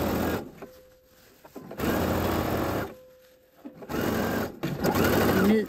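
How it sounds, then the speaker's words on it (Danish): A sewing machine stitches through three layers of fabric across gathered ruffles on a puffed sleeve, running in three close, steady bursts with short quiet pauses between them. "Så har vi syet her hen over rynkerne, og vi har syet igennem alle tre lag"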